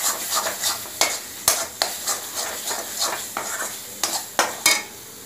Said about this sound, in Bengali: আমি মশলাটা দু তিন মিনিট ধরে ভালো করে কষে নেব